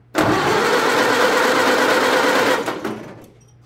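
A 1930 Ford Model A sedan engine cranks and catches with added throttle, roaring loudly and steadily for about two and a half seconds before cutting off abruptly and trailing away.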